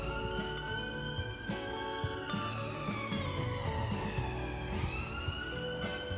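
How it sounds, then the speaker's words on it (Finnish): An ambulance siren wails along an Edinburgh street, steady and continuous with rising and falling tones, moderately distant, with low traffic rumble beneath it and no talk. "Sitten tietysti tuli luontoääni, eli ambulanssi, obviously."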